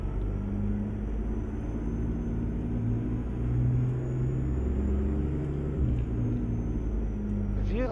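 A truck engine rumbles with a steady low drone in American Truck Simulator, loud and continuous with slight shifts in pitch as it drives.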